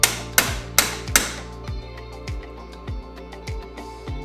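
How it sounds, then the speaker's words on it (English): A metal hammer drives a punch to separate the parts of a Front Runner Expander camp chair. About a dozen crisp, ringing taps come in quick succession, the first few loud and the rest lighter and steadier. "with a punch and a hammer,"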